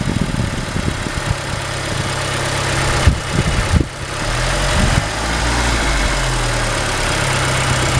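A 2006 Audi A4 with a 2.0 petrol engine idles, cuts out briefly, cranks and restarts mid-clip, then settles into a steady, even idle rumble, heard close up with no talking.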